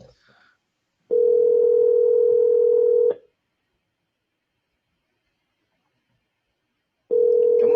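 A telephone call goes unanswered as a steady, loud ringback tone sounds for about two seconds, then a long silence, then the tone starts again at the end.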